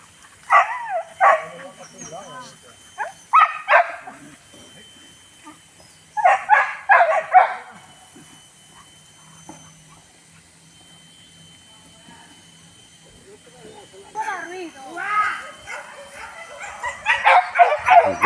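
Hunting dogs on a pig hunt give bursts of yipping barks and whimpers, near but moderate, in several spaced volleys with quiet gaps between and voices heard faintly.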